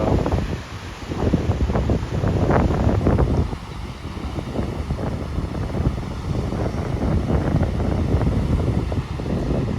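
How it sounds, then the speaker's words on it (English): Wind gusts across the microphone at a beach with surf, a loud, rumbling buffeting that continues throughout, with faint rustling and surf underneath. "the wind feels a little stronger over here"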